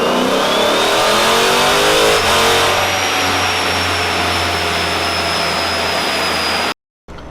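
Tuned car engine revving hard on a dynamometer during a full pull, a loud, sustained climbing roar with a rising whine that holds steady near its peak before cutting off abruptly, with no talking.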